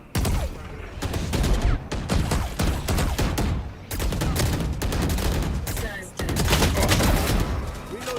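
Gunfire in the Valorant shooter game, rapid bursts of automatic shots, loud and close, repeating in dense volleys with brief pauses between them.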